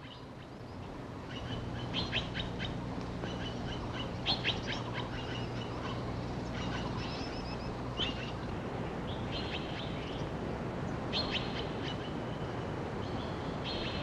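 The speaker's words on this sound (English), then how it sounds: "The Taiwan blue magpie is strongly social and seldom appears alone." Formosan blue magpies call in repeated short, harsh chirps from a social flock, moderately distant over a continuous low rumble of background noise, with no voices.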